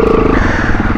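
A trail motorcycle, a Yamaha Ténéré T7, rides through muddy ruts with a steady, close engine drone and a pulsing, chugging exhaust note.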